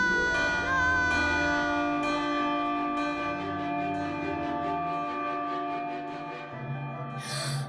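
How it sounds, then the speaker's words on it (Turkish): A church bell tolls in slow, resonant strokes, each ringing out and decaying over sustained music, ending with a sharp gasp, in an animated winter festival scene. "Çan."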